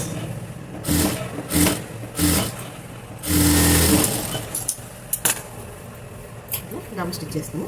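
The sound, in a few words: sewing machine double-stitching a frock's back neck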